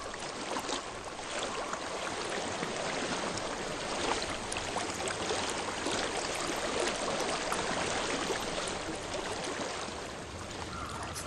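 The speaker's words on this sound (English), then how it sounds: "I hear water. Go to it." Flowing water in the game Hellblade: Senua's Sacrifice, a steady stream gurgling and trickling continuously at moderate distance with no voices.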